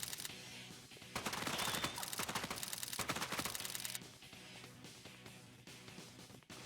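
Rapid gunfire in a PS2 video game, a loud run of fast repeated shots lasting a few seconds before dropping to quieter scattered sounds.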